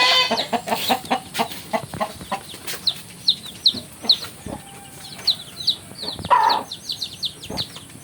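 Chicks being let out near a house, scattered high peeping chirps in quick clusters mixed with soft clucking of fowl, fairly close and clear over a quiet background.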